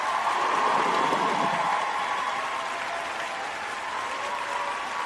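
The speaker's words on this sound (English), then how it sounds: "Give yourself both a hand clap on that" Dense, even applause from a crowd, a continuous wash of clapping that holds steady and eases slightly in level, with no voices on top.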